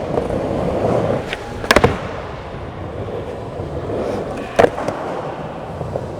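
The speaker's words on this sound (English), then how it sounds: "It's like a proper rocket flip, that one." Skateboard rolling on pavement with a rocket flip trick, steady grinding wheel roll punctuated by a sharp double clack near the start and another loud board slap later, close and fairly loud.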